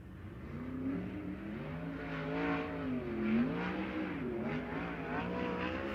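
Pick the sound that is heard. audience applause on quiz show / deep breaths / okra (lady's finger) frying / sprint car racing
sprint car racing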